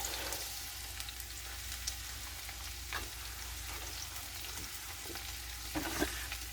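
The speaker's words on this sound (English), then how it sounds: "We're going to saute this bad boy up." Onions and leeks sautéing in olive oil and melted ghee with potatoes, a soft, even sizzle broken by occasional spoon scrapes and stirring clatter.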